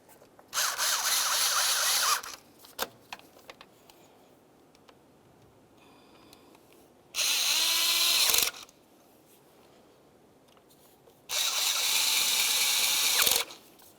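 Power tool driving thermostat housing bolts on a 2001-2005 Ford Explorer Sport Trac, three loud bursts of whirring spin a few seconds apart, with quiet clicks and small handling noises between them.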